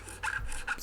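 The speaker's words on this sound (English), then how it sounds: "start filing it away, sanding, or sometimes scraping" A file rasps over dinged areas on the finish of an LTD SC-607 guitar in two or three short back-and-forth strokes, close and fairly quiet.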